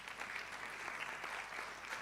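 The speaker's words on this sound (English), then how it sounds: "Clap for him, please." Audience clapping at a public lecture, a continuous even wash of many hands, fairly faint and distant, with no voices over it.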